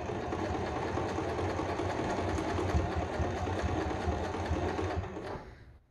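A sewing machine runs a steady straight stitch along the hem of a fabric face mask, loud and close with a fast, even mechanical rhythm, then stops and trails off in the final second.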